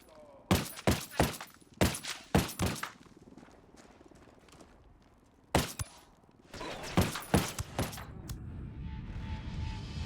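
Bursts of machine gun fire ring out in Ghost Recon Wildlands, sharp clustered shots in several rapid volleys separated by pauses, followed by a steady rumbling background.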